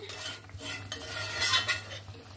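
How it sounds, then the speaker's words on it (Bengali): Potato, parwal and soybean curry with water being stirred in a pan, giving continuous scraping and clinking of a utensil against the metal with a faint watery slosh. "আমি জলটা দিয়ে ভালো করে নাড়াচাড়া করে নিয়েছি"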